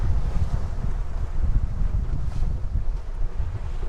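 Strong wind buffets a small boat out crabbing on open water, a loud continuous low rumble of gusts across the microphone with a faint wash of water underneath.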